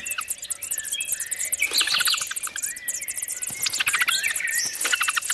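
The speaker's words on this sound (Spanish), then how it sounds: "5 crías de petirrojo que reclaman a voz en grito su pitanza" A brood of five European robin chicks in the nest beg loudly for food, a dense continuous chorus of high, rapid chirps and squeaks rising and falling throughout, close and insistent.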